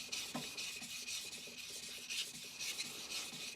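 A single-bevel Tsubazo deba knife is stroked across a Chosera 400 whetstone, giving repeated close, gritty rasping scrapes in a steady back-and-forth rhythm, with no talking.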